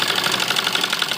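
A sewing machine stitches the fitting seams that join the front and back pieces of a kurti made from an old dupatta, a fast, steady, continuous mechanical whir running close and even throughout.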